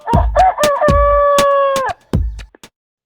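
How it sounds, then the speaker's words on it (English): A farm rooster crows loudly and close by, a full cock-a-doodle-doo with a few short clucks at the end, heard alone with no talk. "Chicken."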